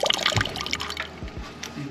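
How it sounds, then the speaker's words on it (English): Chicken stock poured out of a pot while cooking a traditional Togolese jinkome dish, giving a short run of close liquid splashing and trickling with a few low thumps. "She has to pour out the stock from the chicken."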